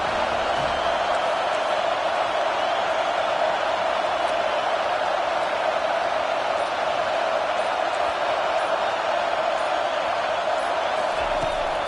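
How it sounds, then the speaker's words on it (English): Stadium crowd roaring at a football game as the defense pins the opponent deep in its own end, a dense, steady wall of cheering and noise that holds loud and unbroken throughout. "this crowd trying to help keep them there"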